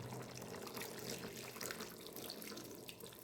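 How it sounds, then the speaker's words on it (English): Tamarind water pouring into a pot of chicken, a steady liquid splash and trickle heard close and alone for a few seconds. "Now again we can add this water, tamarind water,"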